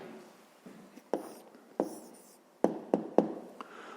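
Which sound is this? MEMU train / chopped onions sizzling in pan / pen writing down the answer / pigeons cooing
pen writing down the answer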